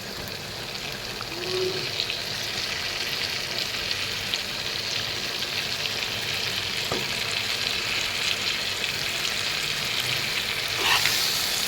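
Fish pieces for a fish curry sizzle steadily in a hot spiced pan, a continuous close frying hiss with occasional stirring scrapes and no talk.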